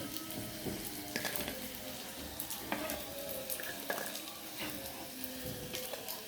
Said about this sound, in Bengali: এভাবে সবগুলো বড়া আমি ভেজে নিব।